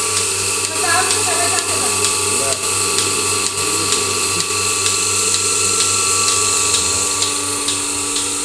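A Turkish milking machine running, with a steady mechanical drone and pump hum broken by regular rhythmic pulses, close and constant throughout, with a brief faint voice near the start.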